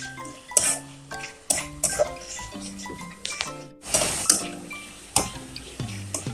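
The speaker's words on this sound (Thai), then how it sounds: "เนี่ยผัดให้เหลืองหอมเลยค่ะ" A spatula clinks and scrapes against a pan as tamarind chili paste is stir-fried, giving repeated close metallic taps and scrapes in an irregular rhythm.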